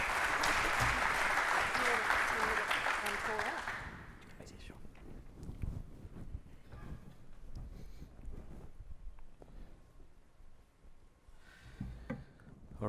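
Audience applause at a technology leadership summit, a dense wash of clapping for about four seconds that then drops away abruptly, leaving faint room noise and shuffling with a quiet voice.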